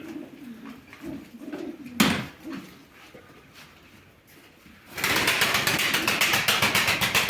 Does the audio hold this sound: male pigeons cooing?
yes